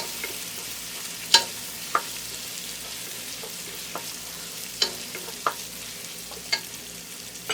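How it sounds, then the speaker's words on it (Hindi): Ginger garlic paste fries in a pan for plain rice. A soft, low sizzle runs under sharp, scattered clinks and scrapes of stirring, with no voices. "अच्छी तरह से फ्राई करेंगे"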